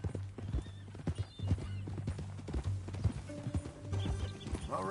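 A horse in a video game clip-clops along in a steady hoof rhythm, and a whinny rises near the end over faint background music.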